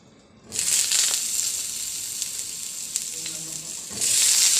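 Potatoes and carrots for afritada drop into a hot pan and sizzle loudly and steadily, a bright hiss that surges up after a short quiet start, with faint clinks and a brief voice underneath.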